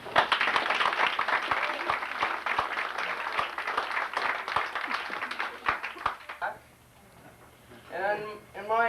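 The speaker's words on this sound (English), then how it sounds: "you guys all deserve a good round of applause" Audience applause at a 1992 youth bantam hockey awards ceremony in Port Alberni, a crowd clapping briskly for about six seconds before it stops abruptly and a voice begins talking.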